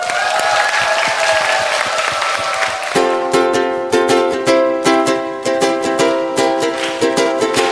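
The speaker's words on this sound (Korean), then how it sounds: "여러분, 박수가 필요합니다." Audience applause fills a hall at an agricultural knowledge-sharing concert, a dense, steady wash of clapping for about three seconds before a song with strummed, rhythmic music takes over.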